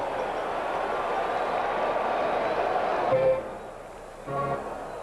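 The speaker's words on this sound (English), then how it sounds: "Good crowd on hand." A large baseball stadium crowd at a 1980 World Series game, a broad, steady roar of distant murmur that dips near the end as a voice briefly speaks over it.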